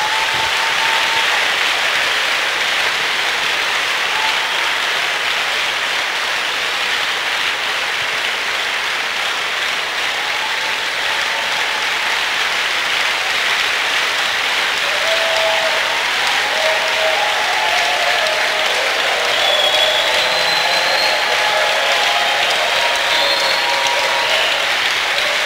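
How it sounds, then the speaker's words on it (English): A church congregation claps together in sustained, steady applause, a dense even wash of hand claps that carries on without a break and with no talking over it. "Let's give him one more clap up from somebody"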